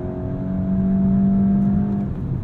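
Engine of a 2023 VW Golf GTI S with a manual gearbox pulling hard in fourth gear, a steady gritty drone that swells slightly in pitch and loudness as it accelerates, heard from inside the cabin with no talking.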